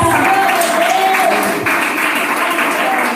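A church congregation gives sustained applause in praise of Jesus, with dense clapping filling the room at a steady level. Voices sound faintly beneath the clapping.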